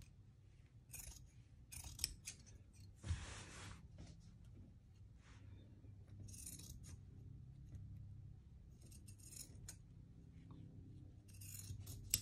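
Scissors snip through non-fraying jersey fabric near a seam, giving a series of quiet, close, crisp cuts with short pauses between them.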